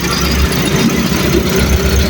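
Toyota Calya 1.2L 1200 cc engine from a 2016 manual car, running at a loud, steady idle with an even mechanical hum and light ticking, close up and with no talk.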